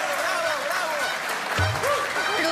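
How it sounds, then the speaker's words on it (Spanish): Studio audience applause bursting out for a new TV channel's launch on a Spanish-language Ecuadorian sitcom, a dense steady clatter of clapping mixed with a bright musical sting and voices. "¡Aplausos!"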